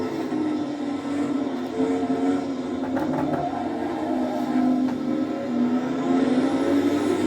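Porsche 917 CanAm slot car whirring around a track, a steady close electric motor whine with rising and falling pitch as it speeds up and slows for corners.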